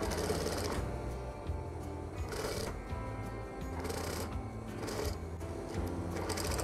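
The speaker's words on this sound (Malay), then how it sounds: "Kita jahit. Okey, jahit sampai habis." A sewing machine stitches a bell sleeve with a continuous close mechanical whirring, swelling in brief rhythmic bursts throughout, with no talking.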